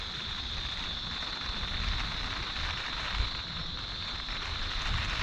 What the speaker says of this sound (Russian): И вот он, дождик.